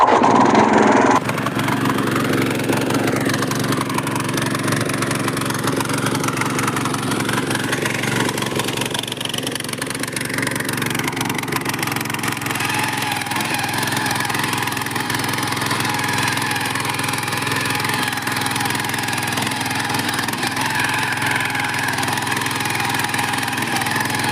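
The small pull-start engine of a cotton field weeding machine runs steadily close by, its pitch wandering up and down as the throttle shifts, with a continuous loud drone and no talking.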